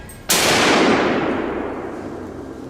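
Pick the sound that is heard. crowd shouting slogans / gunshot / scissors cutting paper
gunshot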